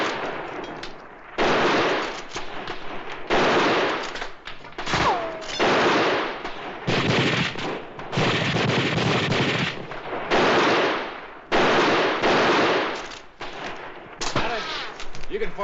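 Rifle gunfire in a Western canyon shootout, with repeated bursts of shots and rattling volleys in clusters separated by short pauses, loud and close, and voices heard between them.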